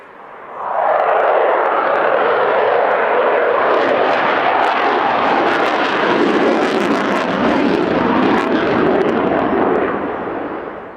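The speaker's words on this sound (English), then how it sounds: "demonstrating the power of those twin EJ200 engines by accelerating from that slow pass into a loop." A Eurofighter Typhoon with twin EJ200 engines at an airshow accelerates from a slow pass into a loop, a loud, sustained jet roar with crackling rumble that swells and holds for about ten seconds, with no talk.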